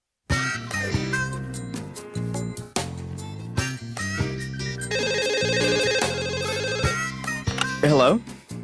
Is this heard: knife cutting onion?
no